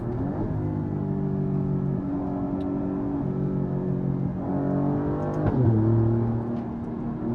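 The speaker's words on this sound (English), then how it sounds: "Second, third, fourth gear." A 2024 Alfa Romeo Giulia QV on KW DDC coilovers accelerates hard on a smooth back road, its engine note climbing steadily, dropping briefly at each upshift and climbing again, loud and continuous with no talk.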